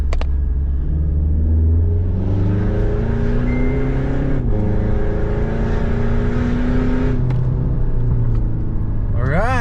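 A Mitsubishi Strada pickup pulls hard in third gear in manual mode, its engine drone rising steadily in pitch from inside the cabin, dipping briefly at a shift, with a voice speaking over the climbing engine.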